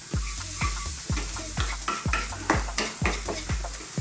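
Spices frying in a pan for mackerel curry, with a steady sizzle and repeated rhythmic stirring knocks against the pan, close and moderately loud.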